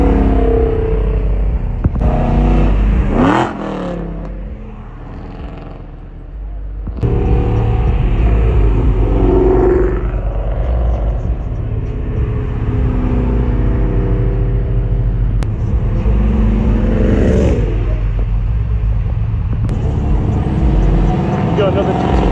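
Ford Mustang GT500 rumbling and revving nearby at a Mustang Week beach meet, its loud engine note swelling and dropping among other traffic, with people talking throughout.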